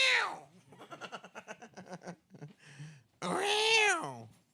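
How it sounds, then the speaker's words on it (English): A domestic cat meows repeatedly: a drawn-out cry, a run of short pulsing chirps, then a long loud wavering meow, close to the microphone with little else around. "That's the cat."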